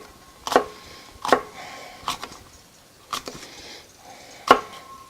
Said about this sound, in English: we're going to cut this the same way we did the cabbage. Just going to cut it right down like that.